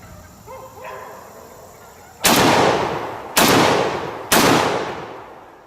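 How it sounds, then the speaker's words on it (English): Three loud, sharp blasts from an AR-12 12 gauge semi-automatic shotgun at an outdoor range, each followed by a short echoing decay, spaced about a second apart after a brief quiet lead-in with faint background sounds. "here we're going hot with the weapon"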